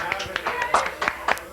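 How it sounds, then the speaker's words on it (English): Sparse, polite applause from a small talk-show audience, a few separate claps with irregular timing, close and fairly thin, with a voice murmuring underneath. "round of applause for Menor Avenue"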